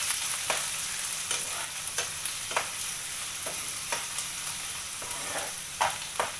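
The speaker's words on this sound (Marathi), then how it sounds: "कांदा टॅमॅटो पैकी असा ब्राऊन होईपर्यंत त्याला ढवळायचा आहे" Onion and tomato stirred and frying in a pan while browning, with a steady sizzle broken by repeated spoon scrapes about once a second, close up and without talk.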